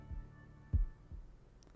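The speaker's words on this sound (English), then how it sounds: "the heartbeats from the beginning" Heartbeat from the opening of an album: low, soft thuds in double beats roughly once a second, faint and muffled under a quiet hum.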